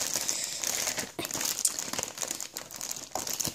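A large parcel is opened with scissors, packaging crinkling and crumpling loudly and steadily at close range with bursts of rustling and tearing throughout.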